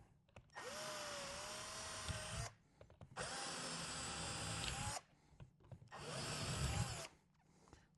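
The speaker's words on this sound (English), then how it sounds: "I'm just going to drill through." A power drill whirs in three long bursts of a few seconds each through a plastic motorcycle saddlebag, with short pauses between, close and steady in pitch.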